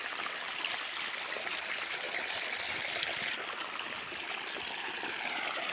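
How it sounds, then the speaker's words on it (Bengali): Irrigation water flows steadily through a field, a soft continuous trickling and gurgling stream with no voices. "এই যে দেখো কত সুন্দর করে জল যাচ্ছে।"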